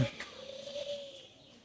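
A soft, low cooing call from a pigeon at a zoo in Sreemangal, Moulvibazar, drawn out over about a second against a quiet background.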